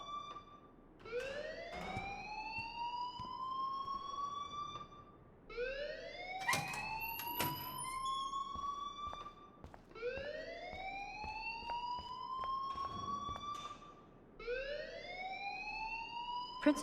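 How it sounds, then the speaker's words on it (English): A fire alarm in the video game Life is Strange wails in repeated rising sweeps, each climbing in pitch and then cutting off, four cycles in steady succession with a brief pause between them, loud and continuous throughout. "please turn off that alarm since that's your job"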